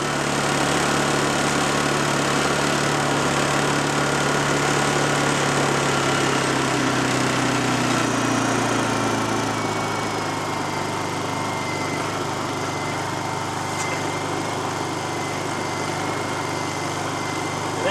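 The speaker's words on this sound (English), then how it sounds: "That's as loud as this carburetor on this generator gets." A Honda 2000i generator engine runs steadily nearby, a constant buzzing drone that eases slightly in pitch partway through and then holds even to the end.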